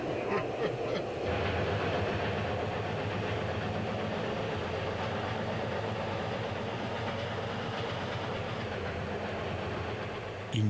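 Rheingold train running on rails with a steam locomotive, a steady close rumble and rolling clatter from inside the carriage, continuous and fairly loud throughout.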